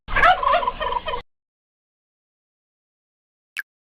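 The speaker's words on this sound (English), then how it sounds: "Turkey." A turkey lets out one loud, close, rapid gobble that lasts about a second, followed by silence.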